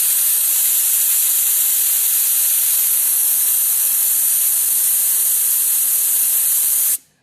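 Air rushes out of a tire valve with its core released by a Grit Performance tire deflator, a loud, steady hiss that holds for about seven seconds and then cuts off abruptly.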